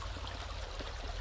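River water rushes over stones after rain, a steady, faint hiss of flowing current with no voices.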